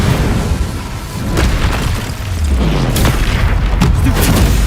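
A fire spell cast in the video game Hogwarts Legacy gives a loud, sustained whooshing roar with several sharp bursts and booms layered over dense game effects.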